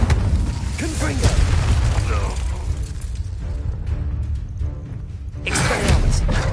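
Fiery spell blast from the Confringo curse in the Hogwarts Legacy video game, a series of loud booming, shattering bursts layered over busy game sound, with a spoken voice present.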